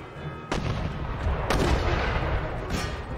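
Mortar blasts and musket volleys rumble through a Napoleonic-era battle in the strategy game Empire Total War, with several sharp cracks in succession over a continuous low, distant roar of gunfire.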